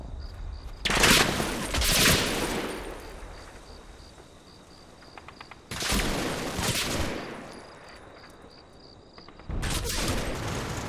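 Machine gun fire in the World War II wargame Combat Mission: Red Thunder, at a farm: three sustained, distant-sounding bursts of automatic fire separated by quieter gaps, with chirping crickets in the background.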